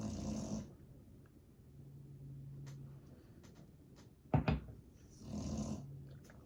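A dog snores while asleep, breathy snore bursts near the start and end with quieter breathing between and a brief bump near the middle.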